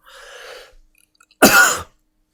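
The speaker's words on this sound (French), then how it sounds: "J'ai une toux en fait, j'en peux plus là." A single harsh cough bursts out loudly after a softer breathy exhale, close to the listener, followed by silence.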